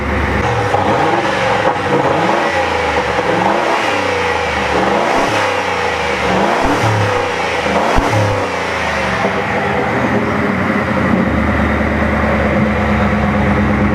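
A turbocharged Ford Crown Victoria with a five-speed gearbox runs nearby as it warms up, its engine droning steadily with some rising and falling revs and a slight whistle, and no one speaking.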